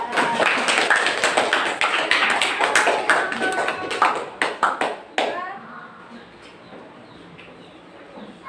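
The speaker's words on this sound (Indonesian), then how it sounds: "Beri tepuk tangan untuk kelompok 4" A classroom of sixth-grade pupils claps for a group after its presentation, a dense burst of many hands with rapid uneven slaps that thins into a few last claps and then quiet room tone.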